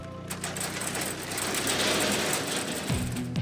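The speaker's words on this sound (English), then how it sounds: "Our cider press used to be water-powered. It's a twin-screw press." An old twin-screw cider press, formerly water-powered and in continual use since 1882, runs with a steady mechanical whir and rattling, ending in a deeper rhythmic knocking near the end, loud and close with no talk.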